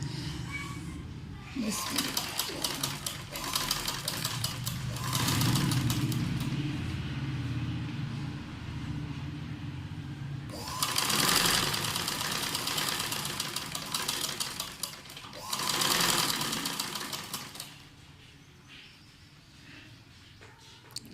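A sewing machine stitches a fabric band in bursts, giving a rapid mechanical chatter that starts, stops and restarts several times, alongside someone speaking in Hindi between runs.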